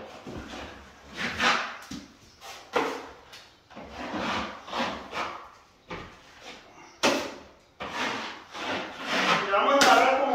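Joint compound being spread across a ceiling with a trowel to smooth out texture, heard as repeated loud scraping and rubbing strokes in an uneven rhythm, close by, with no talk.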